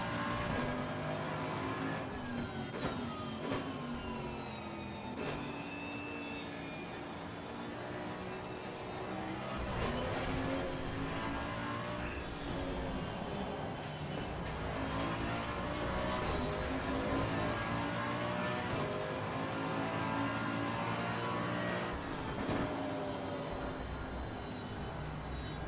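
A race car engine revs continuously in Assetto Corsa Competizione, a steady loud drone with rising and falling pitch as it climbs through the gears, with no talk over it.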